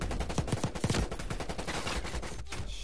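Rapid automatic gunfire in Black Ops Cold War multiplayer, a dense burst of close, loud shots with sharp repeated cracks, then a steady sustained rattle of fire continuing to the end.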